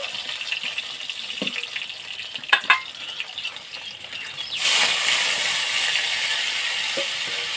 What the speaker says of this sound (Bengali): মশলাটা ভালো করে ভাজতে হবে।